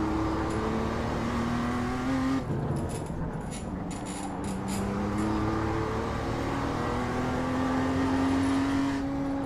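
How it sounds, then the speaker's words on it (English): BMW M2 race car in iRacing at the Okayama circuit, its engine note stepping down through gears as it downshifts into a corner, steady and loud with no talk. "Downshifting"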